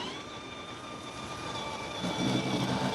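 An RC FCX10 Land Rover Discovery Camel Trophy crawler run at full throttle, its small electric motor giving a steady high whine with a rising rumble of wheels and gearing toward the end, close by.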